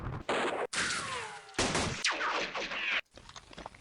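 Gunfire rattles in a World War II strategy wargame set on the Western Front, with several loud, close bursts of rapid fire separated by brief gaps, no voices.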